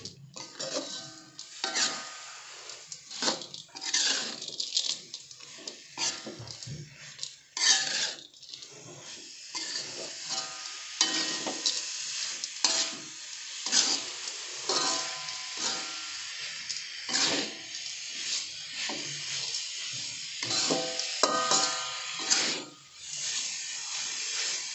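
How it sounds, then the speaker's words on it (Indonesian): Fried tempe being stirred in a pan with a sweet and sour sauce, a steady scraping and clattering of utensil against pan over a faint sizzle, close up and continuous without talk. "Tempe yang udah digoreng tadi. Diaduk-aduk sampai merata."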